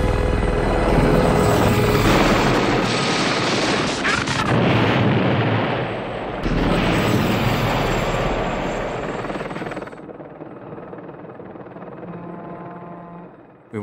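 The helicopter from the film Blue Thunder roars loudly with a dense rotor and engine noise and a few heavy bangs mixed in, then eases off and fades near the end.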